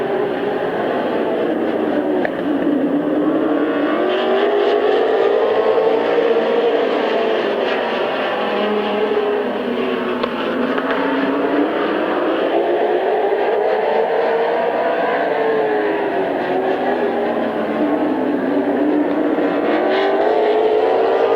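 Race cars circling Midvale Speedway in a 1993 race, engines droning loud and steady with a rising and falling pitch as the pack passes, continuous throughout with no talk.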